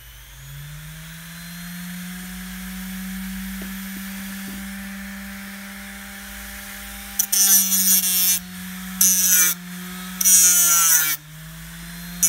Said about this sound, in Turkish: hard disk motorundan yapmış olduğumuz zımparalama makinamızı görmektesiniz